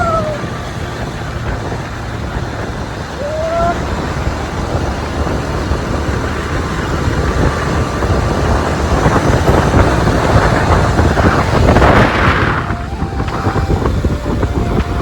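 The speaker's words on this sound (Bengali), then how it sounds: "এত হাওয়ায় ভয়েস মনে হয় যাচ্ছে না।" Strong wind buffets the microphone in a continuous roaring rush while riding across the Kalyani Ishwar Gupta bridge, with traffic noise mixed in and a brief louder gust near the end.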